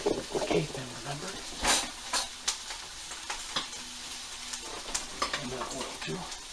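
Butter and balsamic vinegar sizzle in a pan with pork shanks, a soft continuous frying hiss broken by utensil clicks and pan scrapes, close and moderate in level.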